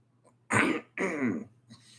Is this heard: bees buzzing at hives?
no